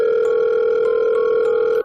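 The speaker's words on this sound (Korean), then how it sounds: "인터폰에서 다시금 그 소리가 들려왔지." An apartment intercom rings with a steady electronic two-tone buzz, loud and continuous for nearly two seconds before cutting off abruptly, with no voices.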